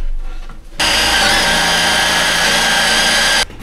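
A power drill bores dowel holes into wood at a workbench, bursting into a loud, high whirring run of about two and a half seconds, then stopping abruptly. Quiet workshop room tone surrounds it.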